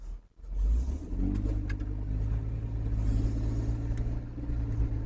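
A 2004 BMW E46 330ci rolls along under its own power with an automatic transmission, its engine a low, smooth, steady rumble heard close by, quiet and even, with no talking.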